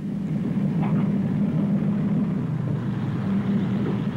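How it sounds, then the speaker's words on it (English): A Twin Pioneer aircraft makes a short, slow-speed landing, its engines giving a steady low droning rumble throughout, fairly loud and unbroken, with no voices. "The twin Pioneer shows its extreme handiness by its short, slow-speed landing"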